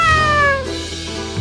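A cat gives a single clear meow with a falling pitch, close and fairly loud, trailing off into quiet background, heard alone without talk.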